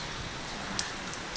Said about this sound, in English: It's freaking raining like crazy.